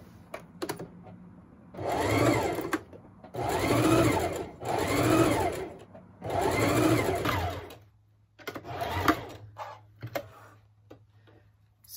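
Home sewing machine stitching knit fabric for face masks, its motor whirring in four rhythmic bursts of about a second each, close and fairly loud, with short pauses and a softer, uneven stretch near the end.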